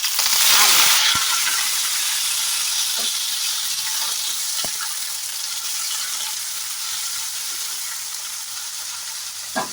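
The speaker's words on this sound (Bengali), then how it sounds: "আলুটা একটু ভাজা হোক" Diced potatoes fry in a spiced oil tempering in a vegetarian dish, a steady close sizzle with a loud initial burst as they hit the pan and occasional scraping clicks of stirring.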